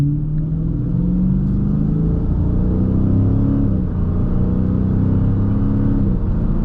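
Dodge Challenger Scat Pack T/A with the 392 engine accelerating on a run, a loud, steady mid-pitched rumble with engine tones climbing through gears, heard from inside the car with no talk.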